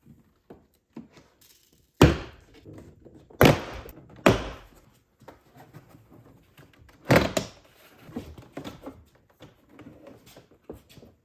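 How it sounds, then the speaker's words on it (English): Sharp plastic pops and snaps ring out at uneven intervals as a plastic pry tool pops door panel clips off a BMW 750Li, several loud cracks among quieter clicks and rustles, close up. "you just use your plastic pry tool to make your way around the door and pop off all the clips"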